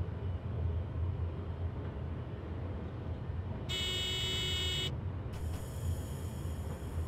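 A continuous low rumble of a moving train in Train Simulator Classic, with two bursts of high electronic cab warning beeps, the second lasting to the end.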